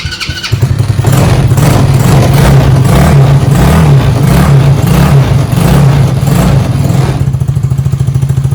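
Venom Motorsports mini jeep engine cranking and catching, then running at a loud, steady idle with a throbbing low rumble throughout, close to the listener.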